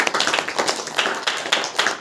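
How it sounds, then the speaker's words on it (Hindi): A church congregation claps hands in praise, a brisk, rhythmic crowd clapping with sharp, even beats throughout. "ताली बजा करके परमेश्वर को।"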